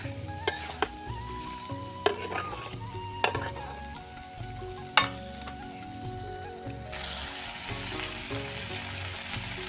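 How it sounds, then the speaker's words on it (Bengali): Pointed gourd and potatoes with spices and salt sizzle in a pan while being stirred, with a steady frying hiss and several sharp spoon scrapes and knocks against the pan. "আবারও ভালোভাবে নুনটা মাখিয়ে নেব মশলার মধ্যে।"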